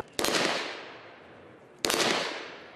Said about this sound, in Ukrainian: А тепер серія пострілів у саму кевларову пластину.